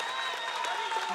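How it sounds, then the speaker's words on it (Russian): An audience claps in sustained, dense applause after a ballet performance, a steady wash of many hands close by. "Спасибо огромное, ваши аплодисменты."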